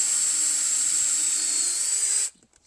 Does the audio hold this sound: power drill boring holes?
yes